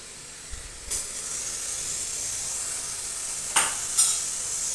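Cumin seeds dropped into a hot pan give a steady, faint hiss with a few short bursts of sizzle partway through. No one talks.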